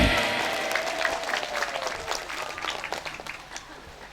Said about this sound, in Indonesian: Berikan tepuk tangan untuk panitia dan PBM.